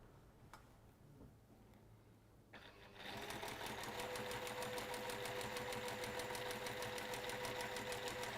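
A sewing machine starts up after a few quiet seconds and stitches steadily along a seam line, a close, even mechanical whir with a rapid ticking rhythm that holds to the end.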